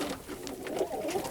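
Italian Owl pigeons cooing in a loft, soft low throaty coos rising and falling close by in a short burst.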